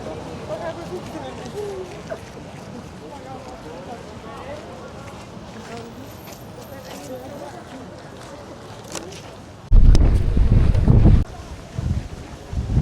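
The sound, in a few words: strong wind on microphone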